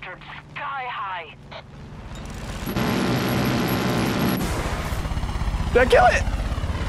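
A helicopter's rotor roars in the Far Cry 5 video game, a steady loud wash that swells in the middle and carries on under gunfire-like bursts, with a voice speaking over it at the start and end.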